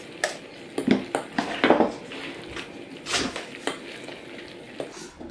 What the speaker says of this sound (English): and mix them all together